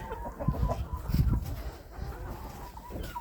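Mixed-breed backyard hens clucking softly nearby in short irregular bursts, with low rustling and shuffling beneath.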